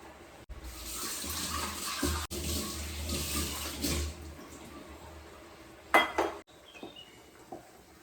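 A cooking pot is washed under a running kitchen tap. Water streams steadily, close and fairly quiet, with a brief burst of clattering near the end and a few faint knocks after it.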